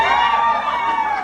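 A comedy club audience cheers and whoops together in a short, loud burst of crowd noise.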